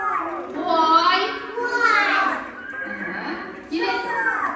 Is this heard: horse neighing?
yes